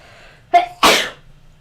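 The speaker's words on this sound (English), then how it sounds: "I have to sneeze." A single sneeze, close and sudden, with a short sharp intake followed by a forceful burst, then quiet.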